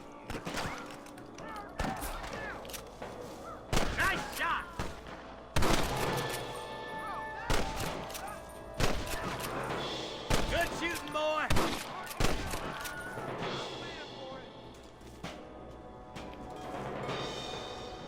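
Repeated gunfire from a Red Dead Redemption shootout with rustlers near Armadillo, sharp shots cracking in irregular bursts and volleys over about eighteen seconds, with voices talking between them.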